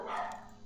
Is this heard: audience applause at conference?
no